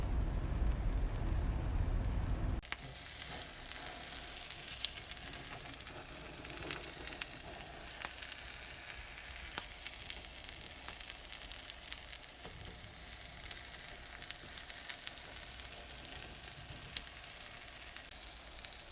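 A folded bacon omelette sizzles and crackles steadily in a frying pan, loud and close, after a short burst of rumbling at the start. The sizzle runs on with no break.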